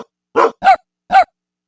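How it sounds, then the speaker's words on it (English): Three short, sharp dog barks from a Scratch program sound effect ring out close and loud, with brief silences between them. "And the tan dog now barks"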